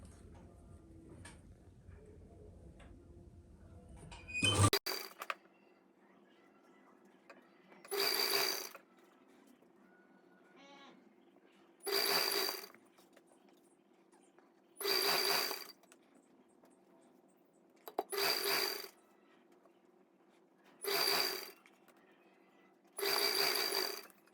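Lace is stitched onto fabric with a sewing machine in a series of short, regular bursts of mechanical whirring, about six runs separated by quiet pauses, close and clear, after a brief rustle at the start.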